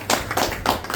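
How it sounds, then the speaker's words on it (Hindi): Clapping from an audience at a seminar in Faridabad, heard as several uneven bursts of handclaps over one short second, fairly loud and close, with no voices. "मैं एक बार चाहूँगा उनके लिए भी तालियां।"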